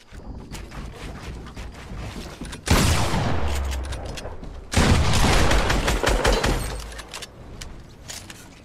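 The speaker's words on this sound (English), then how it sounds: "He was shooting through his wall." Fortnite gunfire shoots through a wall in rapid bursts, two loud sustained volleys of automatic fire erupting over quieter scattered shots and game noise.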